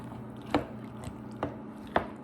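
Macaroni stirred into custard in a pan gives a few soft, wet, squelching scrapes spaced about half a second to a second apart, close by and quiet.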